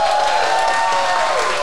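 A live podcast audience gathered for a post-umrah get-together applauds, a loud continuous wash of clapping and some crowd noise, with a faint tone running beneath it.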